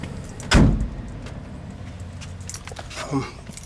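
The door of a 1967 Pontiac Firebird convertible opens and shuts, making two close, solid thumps about two and a half seconds apart, with quiet background noise between them.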